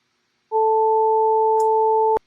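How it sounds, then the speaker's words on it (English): Two steady sine tones from a polyphonic software synth, one at 880 Hz, sound together for about a second and a half, loud and pure, ending with a brief click. "if I turn this one on and this one on and put this to 880, we should hear 2 sine tones"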